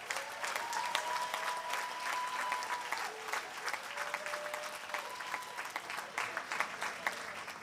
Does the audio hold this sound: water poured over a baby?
no